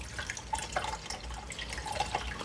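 Water is poured by hand through the top opening of a portable countertop dishwasher to fill it, a soft trickling and splashing with small gurgling drips, fairly quiet and without talk.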